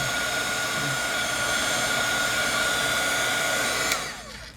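A heat embossing tool blows steadily over an art journal page, a continuous loud fan whoosh with a constant hum that cuts off abruptly near the end, alone without talk.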